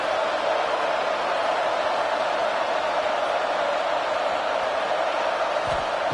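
A stadium crowd roars in the CFL96 Canadian football video game, heard as a loud, unbroken wash of cheering noise that holds steady from start to finish.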